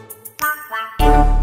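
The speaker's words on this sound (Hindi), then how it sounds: "फोन किसका आ गया?" An incoming call sets off a mobile phone ringtone, a few bright tinkling chimes followed by a louder, sustained melodic tone that starts abruptly near the end.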